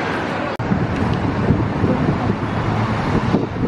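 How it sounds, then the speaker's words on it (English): Gusty wind roaring outdoors with a low rumble, buffeting the mic steadily after a brief click at the start, with no speech. "Oh, it's windy outside."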